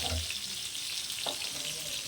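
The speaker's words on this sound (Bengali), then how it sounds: "এই দেখুন লাল লাল ভাজা হচ্ছে" Eggplant pieces fry in a pan with a close, dense sizzle and a brief scrape midway as they are turned, steady and moderately loud with no speech.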